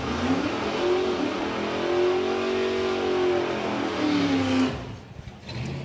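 Wild Bunch drag racing cars accelerate at the STP Summer Nationals, a loud sustained engine roar whose pitch climbs steadily for several seconds before dropping away as the cars pull off down the strip.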